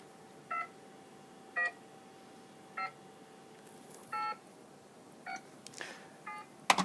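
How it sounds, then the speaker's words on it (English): Short electronic dialing tones from a phone keypad in a classroom, about eight separate beeps spaced roughly a second apart, clear over quiet room hiss. "It did the beep beep beep thing"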